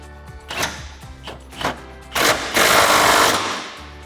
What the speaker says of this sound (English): we'll tighten those down with our 15mm socket as well